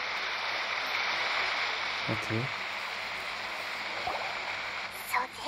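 A steady stream-like rush of waterfall water in the video game Genshin Impact runs under the whole stretch, soft and even, with a brief spoken word and a few light interface blips layered on top.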